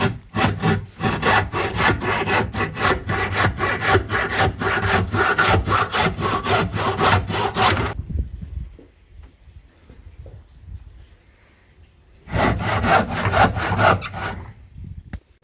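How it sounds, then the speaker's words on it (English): Hand saw cutting raised bits of wood off the rim of a DIY fish pond frame, a steady rapid back-and-forth rasping that runs for about eight seconds, stops for a quiet pause, then resumes loud and close. "So I'm going around the whole thing, cutting like this, to get every single raised bit off."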